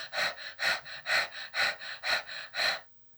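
A person demonstrates fast breathing with seven quick, even, audible breaths in a steady rhythm. The sound is close and airy, then falls silent.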